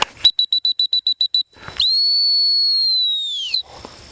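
Nine short, sharp dog training whistle pips in quick succession, then after a pause one long sustained high whistle blast lasting nearly two seconds, close and loud, during gun dog training.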